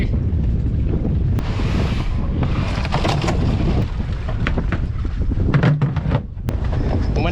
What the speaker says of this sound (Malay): Pemandangan hari ni berangin.